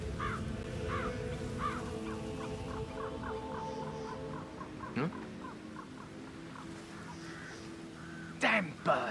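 Crows in Hitman 3 give a run of rhythmic cawing calls over a constant low game ambience. A few sharp cries and harsh bursts come near the end.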